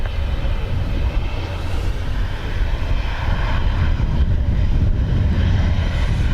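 A Ryanair airplane at Dublin Airport gives off a loud, continuous engine roar with a deep rumble, steady throughout.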